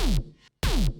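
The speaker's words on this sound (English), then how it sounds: "You can't really hear the kick anymore. It kind of is like swallowed by this loud bass sound." Two loud bursts of deep, booming bass with a falling pitch swoop, swamping the kick drum beneath it, separated by a brief silence.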